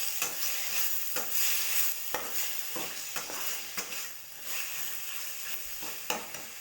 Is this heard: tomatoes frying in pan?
yes